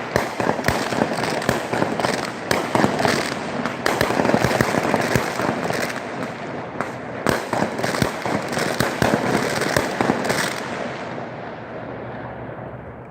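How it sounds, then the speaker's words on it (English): Fireworks burst in a dense, continuous barrage of loud cracks and booms, rapid overlapping explosions filling the air for several seconds before tapering off. "You want to see some fireworks?"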